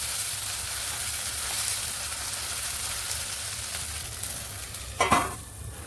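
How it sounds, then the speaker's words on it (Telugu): Tomato pieces fry in hot oil with a steady, close sizzle throughout, and a brief clattering burst near the end. "ఫ్రై చేసుకుంటున్నాను"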